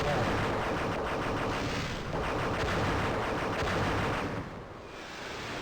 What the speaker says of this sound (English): Just shoot and hope that they will cross your line of fire.